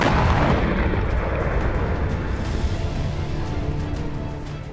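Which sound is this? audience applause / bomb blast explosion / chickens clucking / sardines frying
bomb blast explosion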